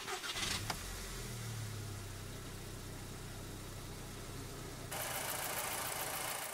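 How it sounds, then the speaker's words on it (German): A 2006 VW Golf V GTI with a 2.0-litre turbo FSI engine turns over and settles into a steady idle, a brief higher whine at the start, then a constant low rumble up close. "dann starten wir den GTI mal"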